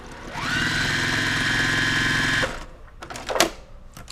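A sewing machine runs in one steady, fast-whirring burst of about two seconds, stitching pieced quilt blocks with a quarter-inch seam, then stops, followed by a few light handling clicks and rustles of fabric.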